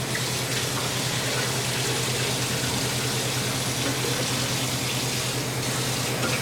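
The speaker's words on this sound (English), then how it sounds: "I'm going to turn on a little bit of water just to rinse out the can." A kitchen faucet runs steadily, water splashing and rushing into a tomato can to rinse it, continuous and close with a faint low hum underneath.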